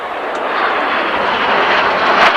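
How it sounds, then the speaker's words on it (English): A sleek jet aircraft flying at about 600 miles an hour passes overhead with a loud, steady, broad roar that swells slightly as it goes by, heard alone without talk. "Very sleek looking aircraft."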